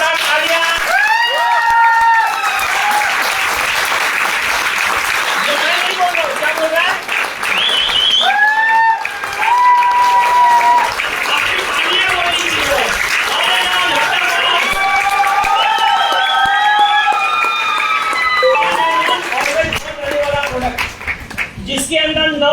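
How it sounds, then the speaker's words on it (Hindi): An audience at a business plan presentation in Nallasopara claps and cheers loudly, with many excited voices calling out over the clapping and someone speaking briefly among them, rising and falling for over twenty seconds. "जोरदार तालियां।"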